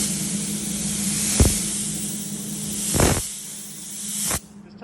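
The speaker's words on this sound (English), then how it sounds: "It's kind of hard to spray and hold this at the same time." Close, steady hiss of a spray can aimed at a Toyota headlight during restoration, one continuous jet broken by a few short clunks, then cutting off sharply near the end.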